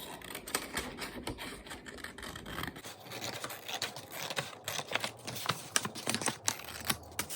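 Scissors trim excess paper from a folded origami box, giving a quiet series of close, crisp snipping and rustling clicks in an irregular rhythm.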